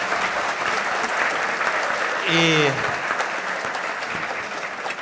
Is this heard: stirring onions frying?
no